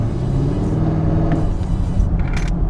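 A Camaro V8 fitted with long tube headers pulls at about half throttle, its deep, loud, steady exhaust rumble broken by a few brief sharp crackles and pops.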